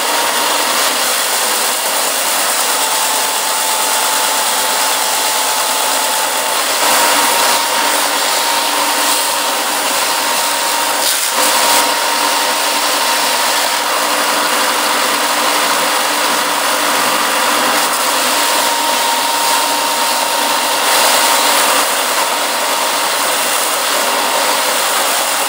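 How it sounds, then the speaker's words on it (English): A belt sander drones loudly without pause while sanding a knife sheath, a continuous abrasive grinding hum with a faint tonal whine. "I still have some belt sanding to do to finish it off."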